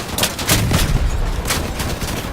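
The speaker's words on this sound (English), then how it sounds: "I just blew up his ammo. That's why it was a huge explosion." An ammo load blows up on a vehicle in the Crossout combat game, a dense burst of rapid crackling blasts and booms that fills the whole moment, loud and close with no talk.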